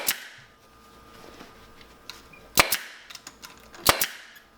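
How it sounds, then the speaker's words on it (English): A staple gun fires staples through upholstery fabric pulled over a frame. Several sharp, loud snaps come close by: one alone, then two quick pairs, with quiet handling sounds between them. "So I'm going to pull the fabric and staple."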